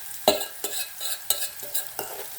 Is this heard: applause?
no